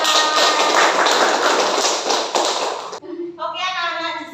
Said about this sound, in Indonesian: beri aplaus untuk kita semua